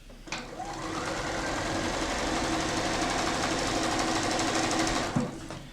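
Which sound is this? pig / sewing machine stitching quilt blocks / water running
sewing machine stitching quilt blocks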